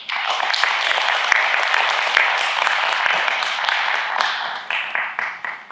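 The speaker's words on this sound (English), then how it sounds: "I really invite everyone to give them a big round of applause" An audience at a Singapore crypto conference gives a round of applause for a panel, a steady, dense wash of clapping that holds for several seconds and then starts to fade.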